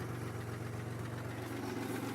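A 2002 Chevy Malibu engine with a fuel leak, idling steadily at close range with a low, even rumble and slight vibration, no talking.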